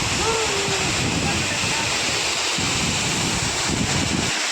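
Savatsada waterfall at Chiplun roars continuously nearby, a dense broadband rush of falling water with some wind buffeting on the microphone and faint voices mixed underneath.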